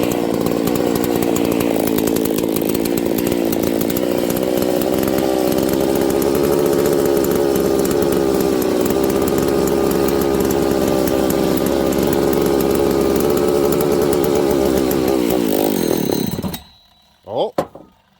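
A chainsaw engine runs loud and close at a steady idle during an air leak test with sprayed brake cleaner, then suddenly dies, falling to near silence with a faint falling whine.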